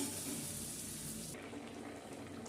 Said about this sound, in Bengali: এবার আমি এতে একটু জল দিয়ে দিলাম